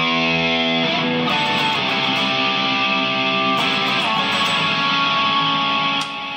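Electric guitar through a Kemper profiler in a Peavey-type amp voicing, with a subtle octave-up pitch shifter blended in, playing a riff: loud, distorted sustained chords with no talking.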